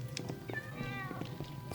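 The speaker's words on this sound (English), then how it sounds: "So we got 101 cats going on in there." Cartoonish cats meowing in the video game My Wonderful World, several short overlapping meows over a steady low background hum, close and moderately loud.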